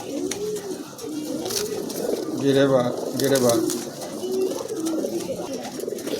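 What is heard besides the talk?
pigeons cooing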